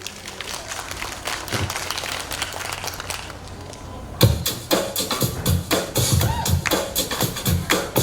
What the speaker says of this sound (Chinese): 请给我们家长掌声鼓励鼓励。